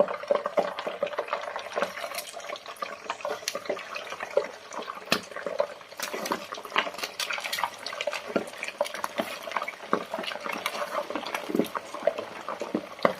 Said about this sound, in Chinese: 然后把我们的鲫鱼一个一个的把它丢进锅里面给它炸一下